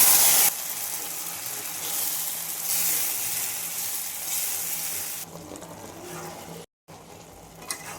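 Chopped onions and cumin sizzle loudly in hot tempering oil for a Bengali jute leaf and mung dal dish, a bright continuous crackle with stirring that drops to a quieter simmer partway through.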